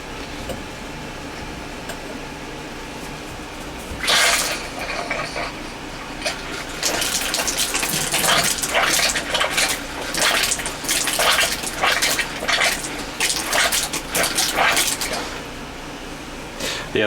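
Water running into a camper's hot water heater tank during a repair, a steady rushing flow that starts near four seconds and swells louder from about six seconds, with brief dips and surges over a low background hum.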